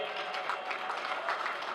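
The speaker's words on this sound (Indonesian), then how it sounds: "Tepuk tangan buat para alumni." A crowd at a halal bihalal alumni gathering claps steadily, with a dense, continuous patter of many hands at moderate volume.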